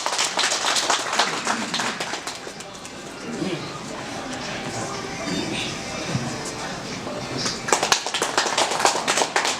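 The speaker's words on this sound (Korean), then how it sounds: "힘찬 박수로 모시겠습니다." Guests at a gallery opening ceremony give applause with distinct individual claps, loud at the start, thinning to a softer murmur in the middle, then swelling with clapping again toward the end.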